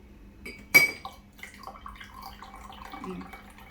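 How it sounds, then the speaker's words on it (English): Liquid poured into a cup during a children's color-change science experiment, a sharp clink at the start followed by soft splashing and trickling sounds, faint and close. "So we're going to pour some in."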